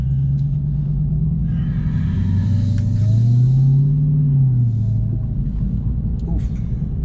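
Dodge Challenger Hellcat Redeye engine building loud, low rumbling revs under acceleration, rising and falling steadily with a brief voice heard over it.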